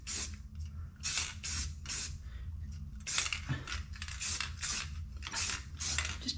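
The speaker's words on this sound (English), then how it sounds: "I figured I'd just spray some black paint on here" Black spray paint hissing from an aerosol can onto a wheel hub part on a C10 truck, in repeated short bursts about every half second, close and fairly loud, with faint metallic clinks between.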